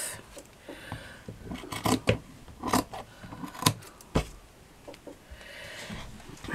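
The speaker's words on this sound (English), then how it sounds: "I'm going to cut that down to there and cut that little bit off." Scissors snip through craft material while shaping a shabby chic heart plaque, giving a close series of crisp, irregular cuts with short pauses between them.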